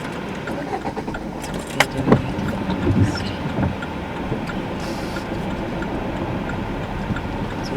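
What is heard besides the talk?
car engine running while driving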